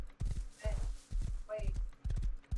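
Horse hooves clip-clopping in the Rust survival video game, a quick, uneven run of close hoof strikes over under three seconds, with people talking over them.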